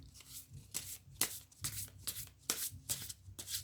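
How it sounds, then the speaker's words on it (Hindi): Tarot cards are shuffled by hand in soft, quick riffling bursts that repeat every half second or so, close but quiet. "कार्ड शफल करते हैं।"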